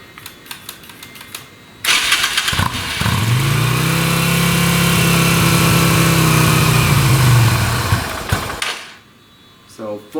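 A Yamaha Virago motorcycle on full choke cranks briefly, then catches and settles into a loud, steady idle with a deep, low throb that runs for about seven seconds before cutting off.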